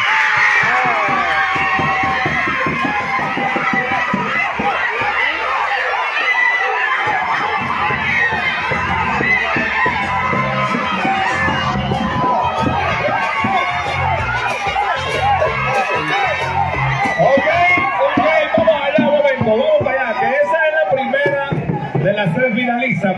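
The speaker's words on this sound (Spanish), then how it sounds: "Con fuerte aplauso y con una ovación recibamos a" A large crowd at a pageant-style event cheers, shouts and applauds in a sustained, dense ovation, with children's voices and a voice calling out over the din.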